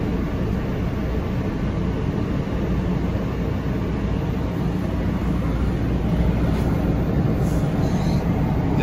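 A WMATA Orange Line 3000 Series metro train rumbles with a steady, loud, broad roar that continues without a break.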